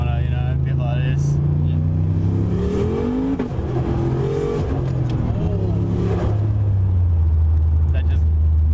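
Turbocharged LS-engined car accelerating hard from inside, the engine roaring and rising in pitch through a gear change, with wastegate whooshes and tire noise; people talk over it.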